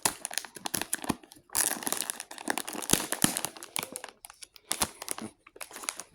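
A resealable package of apple cinnamon cookies is opened up close, giving bursts of sharp plastic crinkling and crackling separated by short quiet gaps.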